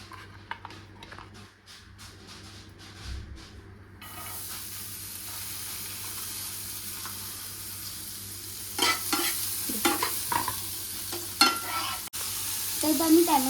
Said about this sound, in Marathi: आता यांना मी शिजवून घेणार आहे कांद्याला थोडा वेळ बटरमध्ये